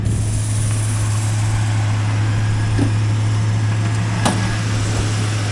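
A 1994 Cadillac Fleetwood with a 5.7L LT1 V8 runs at a car wrecking yard, giving a steady low idle hum with a couple of faint clicks over it.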